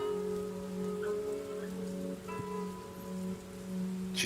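Steady rain ambience from a Foundry VTT tabletop game plays as a soft, continuous patter under faint tonal background music.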